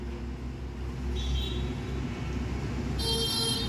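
A car reverses slowly during a driving lesson, a steady low engine idle and rumble with faint traffic around and a brief high tone near the end.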